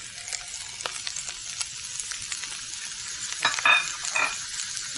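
Fried rice served with grilled tofu sizzles on a hot Chinese sizzler plate, giving a continuous crackling hiss with small louder spits near the end, close up and without talk.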